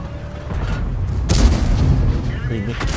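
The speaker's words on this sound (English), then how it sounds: "He shoots another HE at me, 41 damage." A tank cannon fires a high-explosive shell in World of Tanks, one heavy booming blast with a rumbling tail, amid game noise and a speaking voice.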